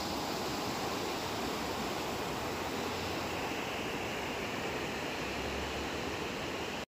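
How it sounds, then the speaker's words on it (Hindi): A fast, rain-swollen mountain stream in Dharamshala rushes in a loud, steady roar that fills the whole stretch without a break. "बहुत सारी बारिश के बाद ये पानी का बहाव भी बहुत तेज़ हो चुका है"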